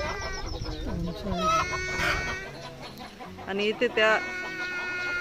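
A hen sits in the hollow trunk of a large fig tree on a goat farm, clucking and crowing in bursts, near and fairly clear, with a person speaking quietly in between.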